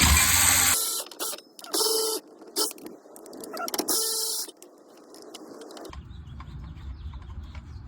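Ratchet wrench clicking in bursts while loosening a 12 mm bracket bolt on a Nissan 240SX KA24DE five-speed transmission, close and loud, with stretches of quieter mechanical handling between runs and no talk.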